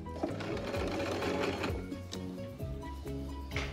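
Sewing machine top stitching the joined edge of a cloth face mask, a close rapid mechanical whir with short pauses and restarts between bursts of stitching.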